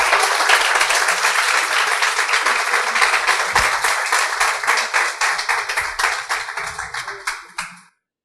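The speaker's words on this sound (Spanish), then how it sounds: "Un aplauso fuerte tiene que ser." An audience at a 2019 book fair gives Daniel Ferminades strong, dense applause that holds for several seconds, then thins into scattered individual claps and stops abruptly.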